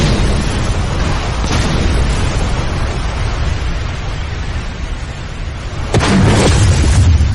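Anime fire-style flame attack erupts as a loud, dense roaring blast that sustains for several seconds before a sharper burst swells near the end, with no talk over it.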